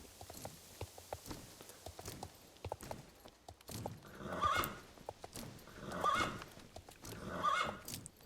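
A horse in a video game running with rhythmic clip-clop hoofbeats, punctuated by three whinnies at regular intervals, quiet and close against faint game ambience.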